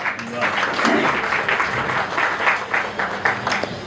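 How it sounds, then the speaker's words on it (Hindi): Audience clapping at the launch of a Hindi poetry collection, a dense steady patter of many hands lasting the whole stretch, fairly loud, with a few voices murmuring underneath. "आपसे रिक्वेस्ट करती हूँ कि ताली बजाने में प्लीज कंजूसी कभी मत करिएगा"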